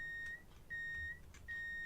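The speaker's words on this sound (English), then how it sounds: "Oh, I got beeps. I got beeps." Repeated electronic beeping in a train cab after the master key goes in, in the Train Sim World 5 video game: three steady tones, each about half a second long, with short gaps between them and no talk.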